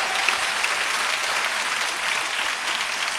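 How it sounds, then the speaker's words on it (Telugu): A church congregation claps loudly and steadily, a dense continuous wash of many hands close by with no talk over it. "చప్పట్లు కొట్టండి గట్టిగా"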